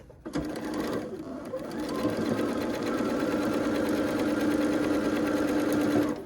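A sewing machine runs steadily, stitching together the seams of a quilt for a Ribbons and Stars design, a fast continuous whirring hum after a brief start, close and loud throughout.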